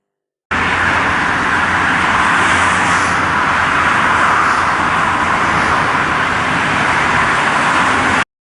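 Heavy traffic on the TEM motorway at the Bolu tunnel makes a dense, steady roar of cars and trucks, loud and continuous throughout, with no voices.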